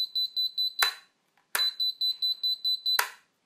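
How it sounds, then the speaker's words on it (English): Two bursts of high, rapid electronic beeps from a quadcopter's installed buzzer, each a run of short even tones ending in a click, with a short pause between. "the beeper starts beeping"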